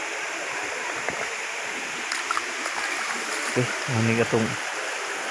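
Mayahay Falls in Matalom pours as a constant broad rush of water throughout, with someone speaking briefly over it and a few knocks and splashes near the end.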